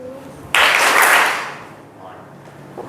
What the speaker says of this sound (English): A whole of the class will follow. Clap, clap, clap.